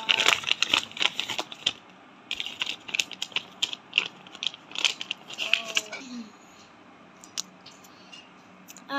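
Scissors snip through a paper blind bag in a quick series of sharp, close cuts and crinkles, followed by a brief pause and a few more rustles, with someone talking between the cuts.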